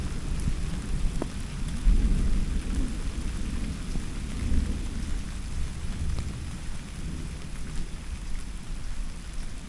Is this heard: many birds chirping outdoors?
no